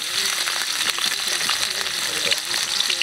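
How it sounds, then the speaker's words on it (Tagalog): Garlic crackles and sizzles steadily in hot oil for pork sisig cooked over a wood fire, a loud, dense, continuous frying hiss up close, with faint talk mixed in. "So lagay natin yung bawang."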